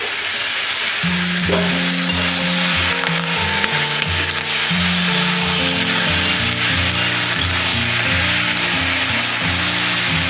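Paste of green chilli, mustard and salt hits a pan of softened cauliflower stalks, giving a steady sizzle and fry under low continuous tonal music, with occasional stirring and no voices.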